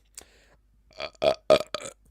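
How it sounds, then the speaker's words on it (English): A single drawn-out burp rumbles in several quick pulses after a short quiet lead-in, close and fairly loud, with no talking over it. "That's how you know it's going to be a good figure is when I burp."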